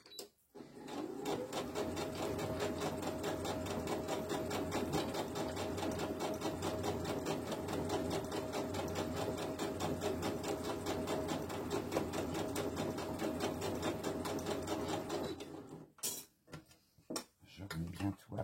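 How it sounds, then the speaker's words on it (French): A sewing machine stitches slippery fabric for a snood at a slow, steady pace. It runs as a continuous rapid mechanical whir for about fifteen seconds, then stops, leaving a few soft clicks and handling sounds. "On coud doucement, ça évite que ça fasse des plis"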